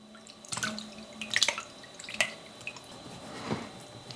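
Water runs through sausage casings in a home kitchen, heard as a few close, faint splashes and drips with a wet trickling sound and quiet handling noises.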